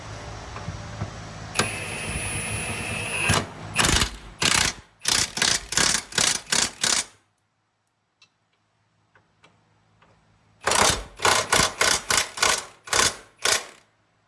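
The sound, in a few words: hand ratchet tightening subframe connector bolts on Honda Element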